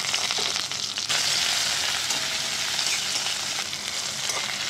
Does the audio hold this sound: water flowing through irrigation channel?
no